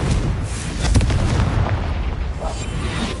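Confringo explosive spell going off in the Hogwarts Legacy video game, a loud, dense blast with heavy rumbling low end and crackling debris that stays steady for a few seconds with no talk.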